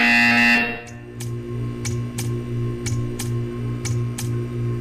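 Repeated electronic buzzer tones in the video game Portal 2, a string of short evenly spaced beeps over a steady low hum, following a brief louder burst at the start.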